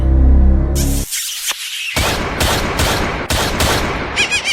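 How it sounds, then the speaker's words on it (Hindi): Sharp bursts of gunfire crack in a rapid series after a low rumbling start, loud and close, with a squealing tone near the end. "ये गोली की आवाज है"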